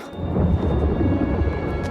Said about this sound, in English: That is no natural storm.